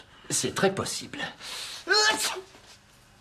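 A sudden sharp sneeze bursts out after a few spoken words, loud and close, then fades into quiet.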